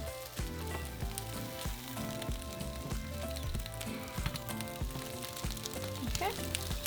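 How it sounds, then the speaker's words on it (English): Tomatoes, garlic cloves, a piece of onion and serrano chiles roasting over high heat in a pan: a continuous crackling sizzle with scattered pops sits under steady background music, close and moderately loud. "I'm going to place my tomatoes, 2 garlic cloves, oops, excuse my peeling, a piece of onion, and our chile serranos. And we're just going to roast them."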